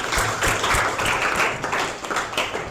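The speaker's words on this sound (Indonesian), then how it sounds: "Tepuk tangan untuk kita semua." A classroom of students claps together at the close of a lesson, a short burst of busy, uneven clapping heard close by.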